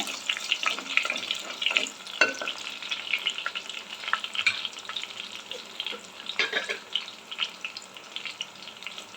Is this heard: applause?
no